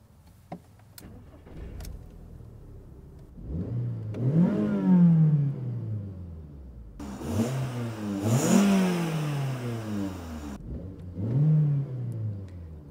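Volkswagen Lupo GTI from 2000 with a 1.6-litre 16V engine starting and then revving hard several times, each rev rising and falling sharply, loud and close with no talking.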